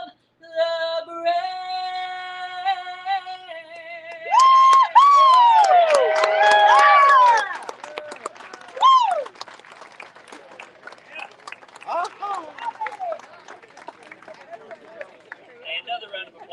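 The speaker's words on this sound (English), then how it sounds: "another round of applause for Tabby" An outdoor crowd at a POW/MIA wrapped truck reveal claps and cheers for a singer after the national anthem, with a siren-like wail and shouts at the start, then a long stretch of scattered, crackling clapping.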